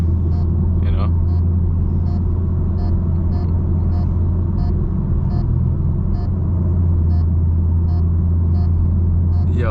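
Loud Camaro SS driving at night on a road in Mexico, a steady heavy low engine drone and rumble heard from inside a car, with faint regular electronic beeps ticking over it.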